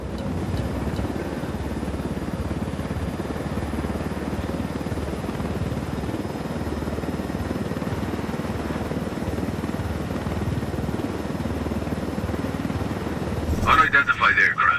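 Helicopter in Ghost Recon Wildlands flying with a steady rotor drone throughout, loud and continuous, with a sharper burst of noise near the end.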